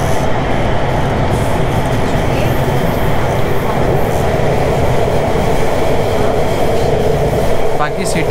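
A Bangkok Metro Blue Line underground train rumbles steadily through a tunnel, with a loud, constant roar and a faint squeal near the end.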